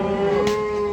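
A single cow at a cattle market lets out a low, steady moo, loud and close, lasting the whole brief moment.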